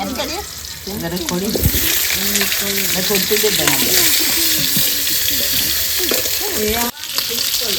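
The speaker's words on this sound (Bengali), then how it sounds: "তাই আলুটা ভেজে নিই" Potatoes frying on a wood-fired clay stove, giving a steady close sizzle that runs throughout, with people talking over it.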